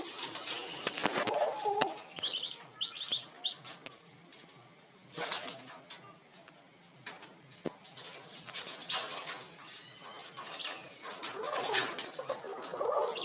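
Ducklings peep in short, high calls scattered over a noisy background, with occasional louder bursts and soft rustling in between.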